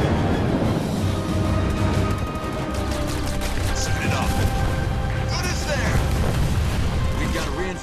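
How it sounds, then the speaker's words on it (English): Explosions from an air unit attack in Halo Wars 2 rumble and crash continuously in a dense battle mix, with game voices talking over them. "I'm receiving fire from air units!"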